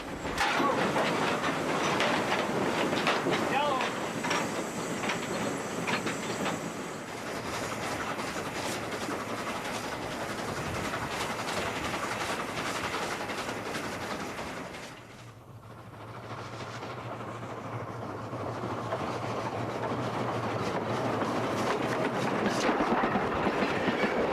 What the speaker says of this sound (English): Back in the train, the passengers are getting a feel for what it might have been like to ride one of the heavyweight passenger trains of the 1940s.